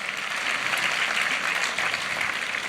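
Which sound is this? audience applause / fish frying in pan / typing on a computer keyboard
audience applause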